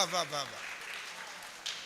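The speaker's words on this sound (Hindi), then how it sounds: "एक बार जोरदार तालियां से बजा दीजिए" Audience applause rises at a mushaira poetry recital at a college in Jabalpur. A speaker's voice opens the moment, then a diffuse, moderately distant patter of many hands claps and trails on.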